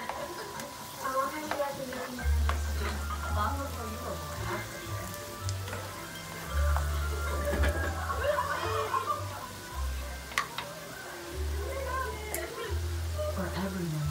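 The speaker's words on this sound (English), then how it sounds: "Nice little stir fry." Shrimp, broccoli and smoked sausage stir fry crackles and sizzles steadily in a hot pan, a patter of spitting oil running continuously beneath someone talking, with a low hum coming and going.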